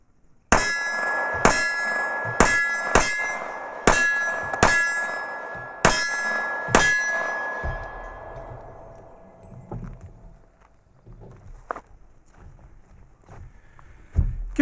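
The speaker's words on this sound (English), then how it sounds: "Let's shoot a couple of rounds." A 1933 Colt Commercial 1911 pistol with a Cerakote finish fired outdoors in a string of about nine sharp, ringing shots at an uneven pace, then quieter handling clatter afterward.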